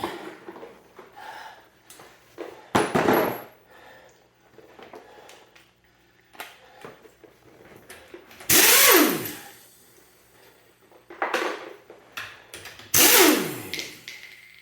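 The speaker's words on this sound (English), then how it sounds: "The pneumatic should work fine." Pneumatic impact wrench on the lower control arm bolts of a 2020 Chrysler Pacifica, two loud close hammering bursts that spin down, amid clanks and handling noises in a quiet garage.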